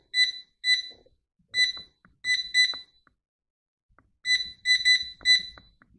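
A Mistral 10 litre digital air fryer gives a series of short, high-pitched electronic beeps, singly and in quick pairs, as buttons are pressed, with faint handling clicks between.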